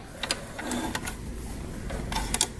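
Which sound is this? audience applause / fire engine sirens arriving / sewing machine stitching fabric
sewing machine stitching fabric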